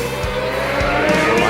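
Michael Schumacher's Formula 1 car at the 1995 Canadian Grand Prix, its engine suffering blow-by, drones steadily at a distance beneath continuous commentator talk.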